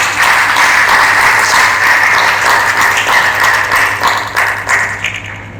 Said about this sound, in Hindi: तालियां बजाइए, समझ में भी आया?